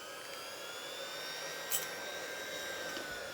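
An electric mixer whizs chocolate cupcake batter with vanilla extract, giving a steady, close, continuous motor whine with a brief louder burst midway and no talking.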